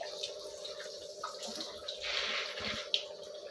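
Water rushes steadily through the RO membrane filter of a Livpure water purifier during forward flushing, a faint continuous hiss with a low hum and a small click near the end.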